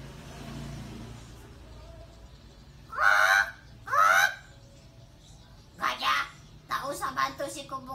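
A bird in a children's animated story gives loud honking calls, two close together, then a few more, with a child-like voice speaking in between.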